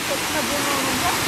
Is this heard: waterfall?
yes